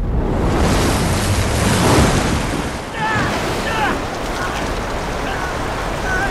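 Water rushing and surging into a sinking ship in the video game Uncharted 3, a loud continuous wash of churning water filling the whole clip, with faint whistling tones partway through.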